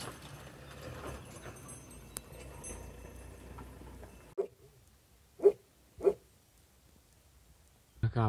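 A dog barks in short, separate yelps near a passing sheep flock on a rural roadside in Italy, after a stretch of steady outdoor noise and faint movement.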